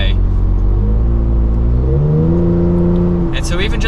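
A Toyota Tacoma pickup's AWE true dual exhaust gives a deep, throaty gurgle as the engine revs up and accelerates, loud and close, with the pitch climbing then leveling off.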